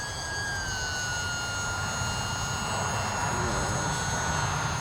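A small e-Flite UMX Cirrus SR22T radio-controlled plane flies overhead, its electric motor giving a steady high whine with a slowly falling pitch over constant outdoor wind noise, loud and continuous.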